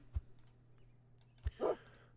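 Faint cartoon dog barks from the video game Super Auto Pets: two short, soft woofs about a second apart, followed by a brief higher yelp, with no talking.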